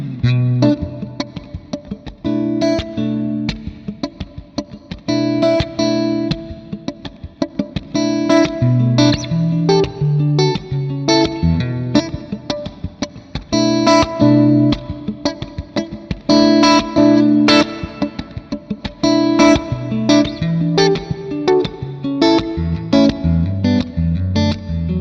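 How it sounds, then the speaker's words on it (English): Electric guitar through a Fractal Axe-Fx wide hall reverb, playing distorted chords and melodic lines that bloom into a broad, washy space with long decaying tails, loud and continuous throughout. "here's the wide hall reverb on its own, an absolutely beautiful space and a wonderful tail decay"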